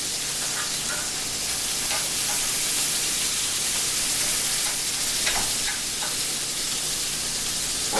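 Onions and peppers searing in a hot pan, a dense continuous sizzle and hiss with faint occasional stirring scrapes, close and steady with no talking.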